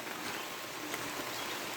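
Steady rain falls in a soft, even hiss at an outdoor camp with a hot tent stove, faint and constant with no talking.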